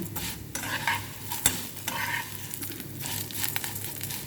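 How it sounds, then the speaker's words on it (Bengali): Vermicelli frying and being stirred in a pan for an Egyptian vermicelli rice dish, giving a steady close crackling sizzle with scraping stir strokes and one sharp clack partway through. "একটু লাল করে ভাজবো"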